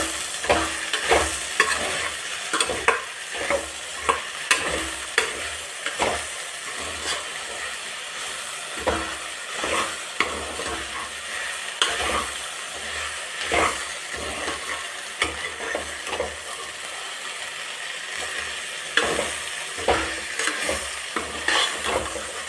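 Okra for bendekayi palya fries in an open pan under a continuous hissing sizzle, while a spatula stirs and scrapes it in a steady, repeated rhythm, close and prominent throughout.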